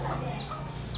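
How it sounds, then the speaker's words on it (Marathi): A chicken clucks softly at a rural home in Maharashtra, a short, fairly close burst of clucks over a low background hum. "घरान कोंबडी आली बघा"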